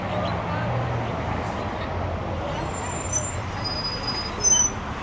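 City bus in Ashgabat, Turkmenistan, heard from inside with a steady low engine rumble and road noise, a few high squeaks and a brief hiss near the end, with people talking faintly.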